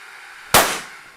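An explosive bat fires a cartridge: a single sharp, loud crack like a firecracker bursting, with a short noisy tail decaying over about half a second against faint background hiss.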